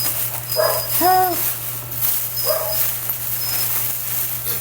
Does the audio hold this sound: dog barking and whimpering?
yes